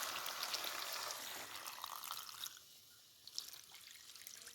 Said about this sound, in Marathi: त्यात एक तांब्या मी पाणी घातलंय